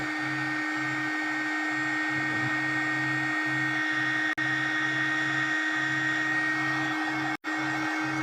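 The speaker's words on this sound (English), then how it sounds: "I'm just drying it." A hair dryer blows steadily to dry paint on paper for a hermit crab sea creature artwork, a loud continuous whir with a low hum that cuts out briefly twice.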